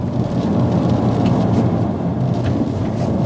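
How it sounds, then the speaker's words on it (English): Heavy rain drums steadily on the body of a moving BMW 330d, a dense continuous wash of noise with deep low rumble mixed in, heard from inside the car with no talking. "Here comes the rain."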